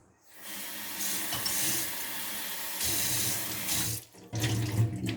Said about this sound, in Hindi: ये पानी मैंने इसमें डाल दिया है